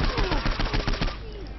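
Rapid automatic gunfire rings out while shooting enemies in Saints Row 4, a loud unbroken burst of shots that stops abruptly, leaving a brief fading echo.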